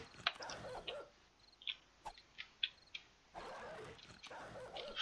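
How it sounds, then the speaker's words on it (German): A zombie dog in the game 7 Days to Die barks and yelps in a few sharp, scattered bursts, faint and somewhat distant, over a low hiss of in-game ambience. "Die Frage, wo ist der Köter?"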